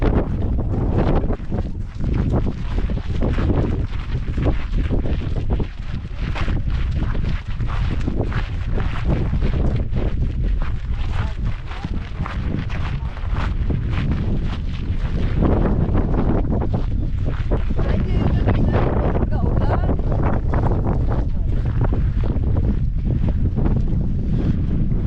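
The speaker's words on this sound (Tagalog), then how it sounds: "It is so windy that I ate already some dust." Strong, gusty wind roars and buffets the microphone at Horseshoe Bend, Arizona, a loud continuous rush that swells and fades throughout, with no voices.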